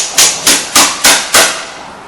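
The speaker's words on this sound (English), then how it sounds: "I'm going to just take a hammer and I'm going to persuade it slightly to come off" A hammer knocks old plastic stabilizer link bushings off a 2000 Chevy Blazer, five sharp, loud metallic strikes at an even pace, each ringing briefly before the next.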